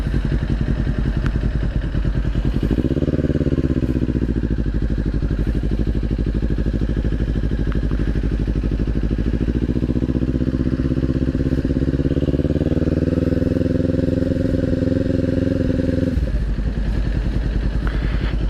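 A Kawasaki Ninja 400 motorcycle engine runs steadily up close during a DMV skills test, its pitch rising as it accelerates, then dropping back to a lower rumble near the end.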